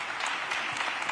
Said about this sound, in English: y'all go ahead clap,